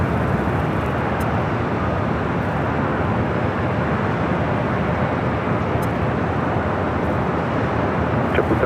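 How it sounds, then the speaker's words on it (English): A Frontier Airlines jet arriving at LAX from Dallas-Fort Worth makes a loud, steady broadband engine roar that holds unchanged throughout, with no talk over it. "a Frontier flight coming in from Dallas, Fort Worth, Texas"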